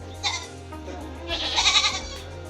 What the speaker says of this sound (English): Goats have grown in big numbers. I'm currently looking at 400 goats.